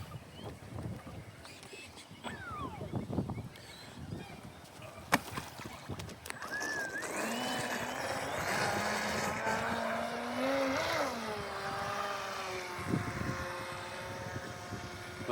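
A Basketcase 25-inch stepped hull RC boat, fitted with a changed prop, runs on a lake, its motor rising into a steady high whine that shifts pitch as it speeds away and turns, after some earlier quiet handling noise.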